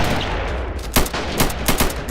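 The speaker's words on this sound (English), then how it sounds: "And there goes another artillery shot right there." Artillery fire in a video game battle for Pork Chop Hill: several sharp, booming bursts in quick succession over a steady background rumble of combat.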